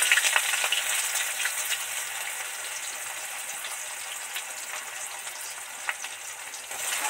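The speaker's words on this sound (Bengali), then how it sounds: "পেঁয়াজ কুচিটা এর মধ্যে উঠিয়ে দিচ্ছি" Chopped onion fries in hot oil with a little sugar, giving a steady, loud, bright sizzle that runs throughout with faint crackles and no talking.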